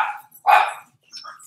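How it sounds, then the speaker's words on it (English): Dogs indoors bark at something outside a window, two or three sharp, close barks separated by brief pauses. "And they just bark at everything that's outside."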